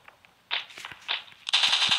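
Machine gun fire in the video game Pixel Soldiers: The Great War, heard as sharp clattering bursts: a few short volleys and then a denser, louder stretch of rapid shots at the end.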